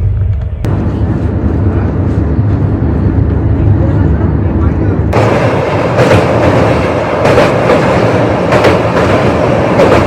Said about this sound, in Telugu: ట్రైన్ పోతా ఉంది.